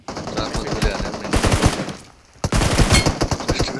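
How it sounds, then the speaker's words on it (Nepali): Machine gun fire in the video game PUBG Mobile, with rapid, loud bursts of automatic shots, a brief pause, then another sustained burst. "चार पाँच गोली हाल्यो नि"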